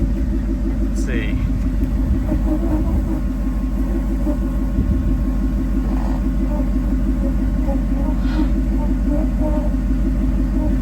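A vehicle engine on tires with 8 PSI, revving hard in first gear during a tire pull test, gives a loud, close, continuous rumbling drone that holds throughout, with faint voices under it.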